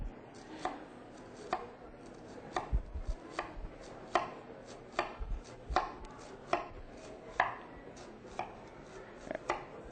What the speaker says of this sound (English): But I'm going to go at an angle because the onion is in a half moon. So cutting towards the middle,